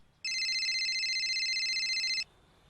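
A telephone rings for an incoming call with a single steady electronic trill, loud and close, lasting about two seconds before cutting off into quiet.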